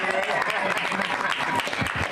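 An outdoor community event audience applauds, dense steady clapping at close to moderate distance that runs the whole moment without a break.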